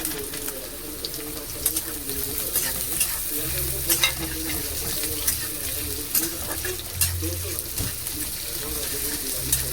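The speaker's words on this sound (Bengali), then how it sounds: "আলুটা একটু ভেজে নেব" Thin, long-cut potato strips fry in a pan with a steady sizzle, broken by frequent stirring scrapes and clatter, close and moderately loud, with a voice speaking faintly in the background.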